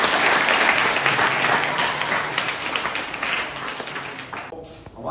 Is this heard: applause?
yes